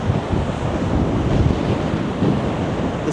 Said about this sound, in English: Got your waves crashing up against the seawall.